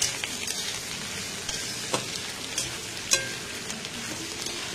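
Ground ginger paste fries in a small amount of oil over low gas, giving a steady soft sizzle with occasional sharp clicks and scrapes from stirring.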